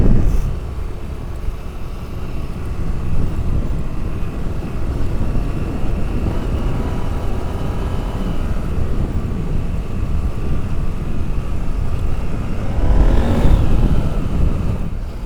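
A rally motorcycle drones steadily along a sandy, rocky desert special stage, its engine a continuous mid-level roar under wind rush, briefly swelling louder near the end as it works harder.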